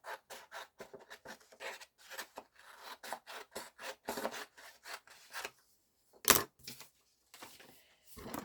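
A Big Shot die-cutting machine is hand-cranked to pass a large craft die through paper, giving a close series of short scraping, rasping bursts with brief pauses and one sharper clack, and no talk.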